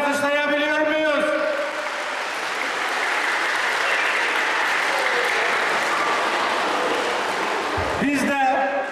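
An audience at a sports equipment handout event gives the mayor a long burst of steady applause. A speaker's voice is heard at the start, and a brief voice returns at the end.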